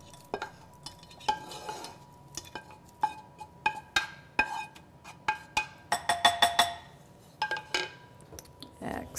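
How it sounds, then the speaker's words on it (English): A metal spoon scoops cooked meat into a bowl of egg mixture, sharp clinks and scrapes against the bowl in an irregular series, close and fairly quiet. "Just simply going to spoon the meat right into the egg mixture."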